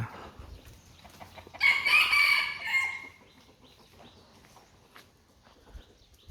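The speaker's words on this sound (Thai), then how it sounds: "ไก่ต่อไก่ป่า" A decoy jungle fowl rooster crows once, loud and near, at a temple in Laos, its long call standing out over quiet outdoor background noise with faint rustling before and after.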